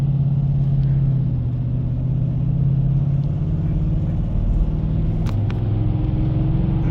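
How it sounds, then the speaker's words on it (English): A car pulling away under medium throttle, with a steady, low engine drone heard from inside the car whose pitch climbs gradually. The sound stays at an even loudness with no talking. "I'm going to accelerate now under medium throttle"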